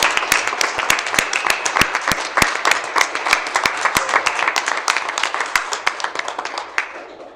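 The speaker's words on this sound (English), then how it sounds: "Please join me in giving our finalists and commended scholars one more round of applause." An audience claps for finalists and commended scholars at a board meeting, with a dense burst of applause full of sharp individual claps that thins out gradually toward the end.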